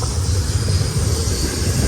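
A westbound high-priority BNSF Z freight train with five engines, three of them heritage units, passes on the main track at Silverwood, a loud steady rumble and hiss of rolling cars with no voices.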